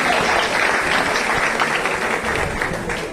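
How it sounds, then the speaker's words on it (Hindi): An audience at a university seminar in Allahabad claps loudly and steadily through a prize announcement, a dense, continuous wash of many hands with no voices on top. "Third position goes to Pallavi, miss Pallavi, अब तालियों के साथ स्वागत कीजिए।"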